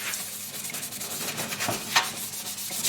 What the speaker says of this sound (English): So now we can give that a good old scrub.